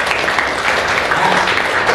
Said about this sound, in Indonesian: Aisyah, tepuk tangan ya,